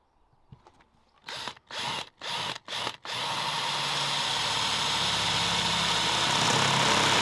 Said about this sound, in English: So let's get drilling.